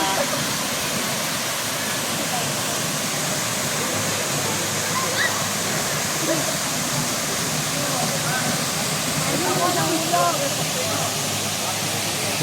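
Daranak Falls in Tanay roars as a steady, dense rush of falling water, loud and constant throughout, with faint voices of people nearby mixed under it.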